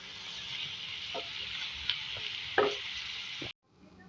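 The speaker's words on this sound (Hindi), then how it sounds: "इसमें टमाटर डालेंगे 1 मीडियम साइज का, और टमाटरों को सॉफ्ट कर लेंगे अच्छी तरीके से। मिक्स करके सॉफ्ट करेंगे।" Medium tomatoes fry on a tawa for kaleji with a constant bright hiss, punctuated by a few scraping and clinking stirs, close up, before the sound cuts off abruptly.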